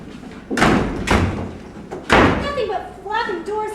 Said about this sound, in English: Nothing but flapping doors in this house.